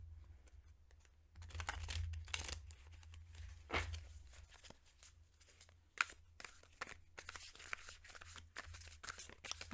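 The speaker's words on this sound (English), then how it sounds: "Give these a shuffle." Papery shuffling and riffling of oracle cards in bursts, close and fairly quiet, with soft handling noises and brief pauses between rounds.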